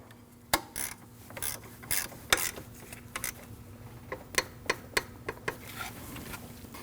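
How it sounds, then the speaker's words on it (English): Ratchet clicks as a 12mm lock bolt is tightened on the AC belt tensioner of a 2003-2008 Subaru Forester 2.5L H4: a series of sharp, close clicks, irregular at first, then a steady run of about eight evenly spaced strokes. "you want to tighten your 12mm lock bolt."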